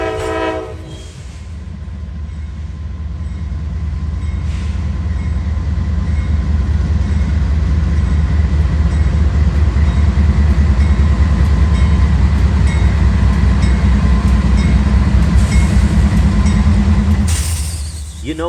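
A coal train rolls past in Chattanooga with a loud, steady rumble of heavy wagons and clattering wheels close by, a brief horn blast near the start and another near the end.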